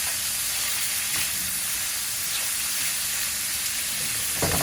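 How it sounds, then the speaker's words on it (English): Steady, close sizzling of fish balls frying in a hot pan, a continuous crackling hiss with a small clatter at the very end. "Got good sizzle."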